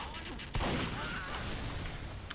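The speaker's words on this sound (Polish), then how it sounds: "Coś chyba strzela." Faint gunfire and a burst of shots in the video game Team Fortress 2, with one sharper blast partway through under steady game noise.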